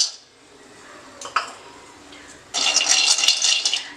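Almonds tipped into a hot kadai for dry-roasting, a sudden loud, dense rattling and skittering that begins partway through after quieter clinks and carries on steadily to the end.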